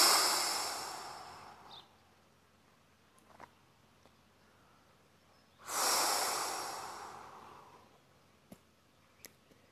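Two long, forceful exhales come through the nose and mouth during a guided sophrology relaxation exercise, each a loud rushing breath several seconds long. They sit close and alone, separated by quiet, with a few faint clicks in between.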